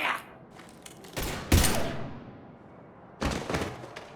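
Gunfire in the science-fiction shooter Mass Effect 3: a few sharp bursts of shots, spaced out with quieter gaps between them, fairly loud and with no talking over them.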